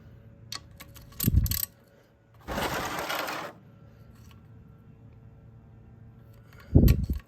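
Wrench tightening an oil drain bolt on a Suzuki DR-Z400SM motorcycle: two short, close metallic ratcheting bursts separated by a longer broadband whirring, with quiet gaps between.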